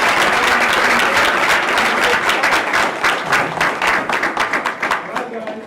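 Loud applause from a crowd at a school board meeting, steady at first and then thinning into scattered individual claps toward the end.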